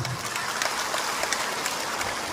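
Many people clap together in a finger-counting clapping game, a dense steady patter of light claps close by with no talk.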